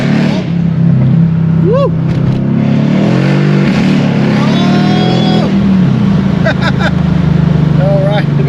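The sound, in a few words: Mercedes CLS63 AMG on E85 accelerating hard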